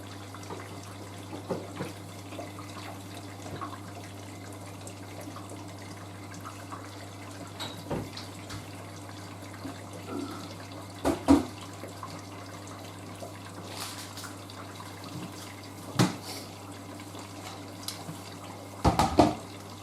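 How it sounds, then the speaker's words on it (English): Hot water runs steadily into a Hoover A3060 washing machine as it fills, a quiet continuous trickle with a low steady hum beneath and occasional faint clicks and knocks. "The machine's filling much slower because that's just pure hot water going into the machine."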